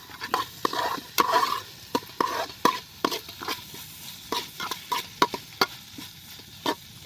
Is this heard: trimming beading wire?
no